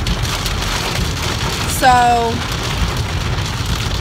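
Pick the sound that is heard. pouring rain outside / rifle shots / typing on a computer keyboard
pouring rain outside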